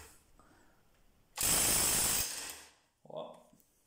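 A Parkside 180 Nm impact driver from Lidl hammers on a bolt until it breaks loose: one loud, dense rattling burst of just over a second, close by, with faint noise before it and a short voice afterward.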